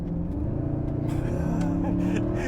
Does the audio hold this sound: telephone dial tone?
no